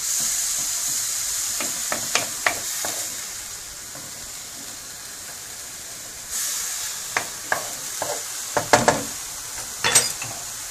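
Food sizzling in a very hot pan for pasta under a steady hiss, with scattered scraping and clinking as it is stirred now and then.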